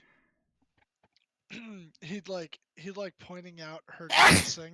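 A single loud sneeze bursts out at the end, right after a stretch of people talking.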